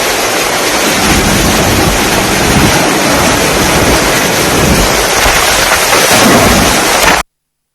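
Heavy rain pours down in Mumbai, a dense, loud, unbroken roar of rainfall that stops abruptly after about seven seconds.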